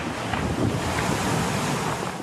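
Rough open-ocean waves crash and churn under a constant roar of wind at sea aboard a racing sailboat, loud and continuous with no voices.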